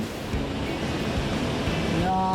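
A powerful waterfall roars continuously in a mountain stream gorge in a dense, even wash of falling water. A brief voice-like sound rises faintly near the end.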